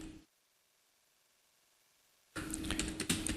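Typing code on a computer keyboard, a brief cluster of quick clicky keystrokes at the end following near silence, close and fairly crisp.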